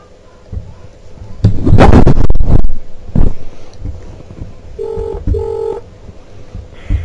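Two short, steady keypad beeps sound on a phone line while dialing an area code for the Scottish Hydroelectric power emergency line. Loud rustling handling noise comes first.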